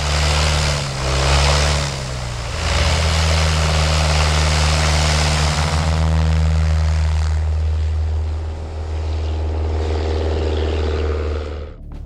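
A light propeller plane sits on snow with its engine running steadily, a droning hum with strong low harmonics that holds near and loud throughout, shifting slightly in pitch as it turns.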